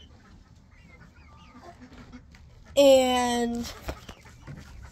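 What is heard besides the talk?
chicks clucking on small family farm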